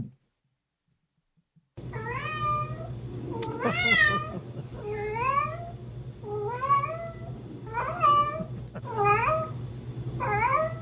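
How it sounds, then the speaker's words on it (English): A cat meows in a greeting-like way: after a moment of silence come about seven drawn-out, rising-and-falling meows, close and clear, spaced a second or so apart, over a low steady hum. "This is a cat that can say hello."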